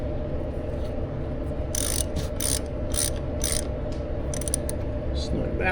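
Ratchet turning a 14mm socket on a boat trailer brake, several quick clicking bursts near the mic over a steady background hum.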